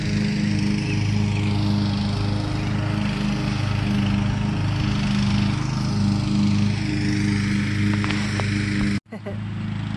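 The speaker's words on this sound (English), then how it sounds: "Mowing again here in the backyard." Lawn mower cutting grass in a backyard on a bright evening, its engine droning steadily and close by as someone talks over it.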